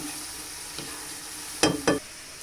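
Sugar syrup bubbles and sizzles steadily in a pan while making paneer candy, with a soft scrape partway through and two louder stirring scrapes near the end.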